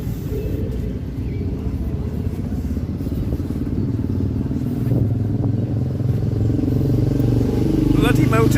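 Motorbikes rumble and roar past on a road in Durbuy, a loud, continuous engine drone that grows heavier toward the end, with people talking over it.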